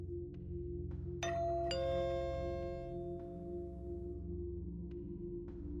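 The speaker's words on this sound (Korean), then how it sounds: "초인종 소리가 그 어느 때보다도 맑게 들린다." A two-tone ding-dong doorbell chimes twice in close succession, clear and ringing over a low droning horror-radio background, its tones slowly decaying.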